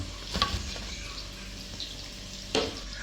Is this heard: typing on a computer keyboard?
no